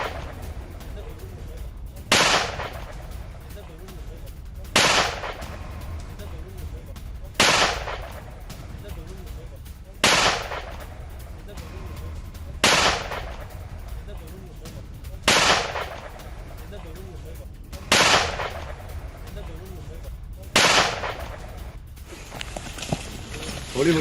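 Gunfire during a police encounter with gangsters in Jalandhar, Punjab: sharp loud shots ring out one at a time at a steady pace about every two to three seconds, over a constant rumbling background.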